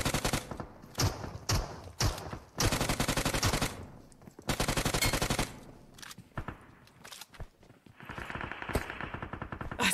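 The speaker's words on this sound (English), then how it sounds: "That's a lot of gunfire coming from the left too." Automatic gunfire in a battle royale video game, with several long, loud bursts broken by pauses and scattered single shots, all without talk.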